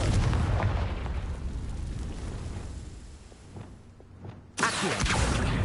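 Confringo spell explosion in the Hogwarts Legacy video game: rumbling game background dies down before a sharp, loud blast erupts near the end and carries on with a thick roar.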